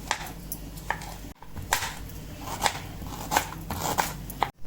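A knife cutting soft cooked tomato on a board in a home kitchen while a crab curry is being made, steady repeated close chopping taps with light clatter between them.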